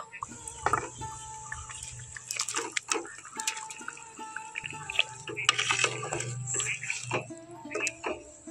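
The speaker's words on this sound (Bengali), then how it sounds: "এখন আমি মাছগুলো দিয়ে দেব।" Shol fish goes into a pot of boiling water with raw mango, bringing bubbling, splashing and dripping liquid sounds, close and moderately loud, with irregular plops and a low simmering rumble underneath.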